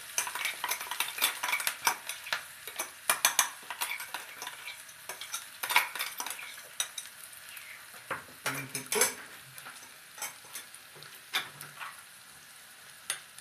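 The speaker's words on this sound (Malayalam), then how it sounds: "ഇട്ട് മൂത്ത് വന്നപ്പോൾ നമ്മൾ ചതച്ച് വെച്ചിരിക്കുന്ന ഇൻഗ്രീഡിയൻസ് ഇതിലേക്കിട്ടു" Crushed ingredients are stirred into a hot pan of oil with a dried red chilli for banana flower thoran, with a spoon scraping and clinking against the pan over a soft sizzle in irregular strokes.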